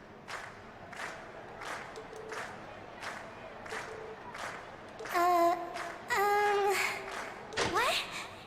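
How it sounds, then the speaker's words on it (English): Crowd cheering in the video game Trails of Cold Steel after Class 7's performance, with a steady background murmur, several short vocal calls, then louder sustained shouts and cheers building near the end. "And we've heard your cheers loud and clear"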